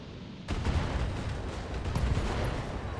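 Fire support artillery in the BattleTech video game hits with a sudden heavy blast, followed by a sustained rumbling barrage of loud, overlapping impacts.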